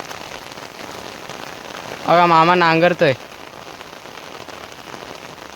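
Steady rain falling and pattering on surfaces in an early-season downpour, a continuous dense hiss throughout, with someone speaking briefly over it partway through.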